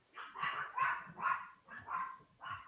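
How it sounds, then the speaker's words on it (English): Several dogs barking indoors in a rapid, evenly spaced string of about six sharp barks, moderately close and fairly quiet, with no talk over them. "Sorry about my dogs if you can hear them."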